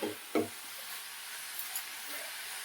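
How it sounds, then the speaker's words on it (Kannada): Jackfruit seeds being stirred with salt and chili in a pan, a couple of sharp scraping knocks near the start, then a soft continuous sizzle and faint stirring rustle. "ಉಪ್ಪು ಖಾರ ಎಲ್ಲ ಕಡೆಗೆ ಹಿಡಿಯುವ ಹಾಗೆ ಮಗ್ಸ್ಕೊಳ್ಬೇಕು ನಿಧಾನವಾಗಿ"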